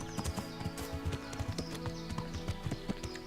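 Horse hooves clip-clop in a steady, brisk rhythm in the medieval game Kingdom Come: Deliverance, close and fairly loud over a faint background bed.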